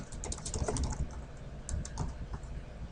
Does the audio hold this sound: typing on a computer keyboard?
yes